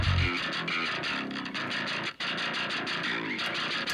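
Electric guitar played through a Neural DSP amp plugin set for mid-gain distortion while mixing a song, a crunchy, saturated riff with chugging palm-muted notes and one brief dropout partway through.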